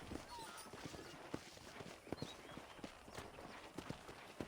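Horse hooves clip-clop at an irregular walking pace on a ranch in a video game, fairly quiet and steady over a soft ambient bed.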